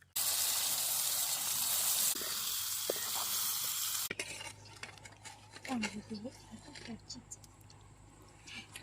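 Fish sizzling loudly in a frying pan for a few seconds, then the hiss drops away to quieter clinks and scraping of a utensil in the pan.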